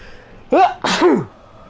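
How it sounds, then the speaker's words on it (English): A single loud sneeze, close by, with a sharp intake and then an explosive burst, standing alone against quiet. "Sorry, I can feel a sneeze coming."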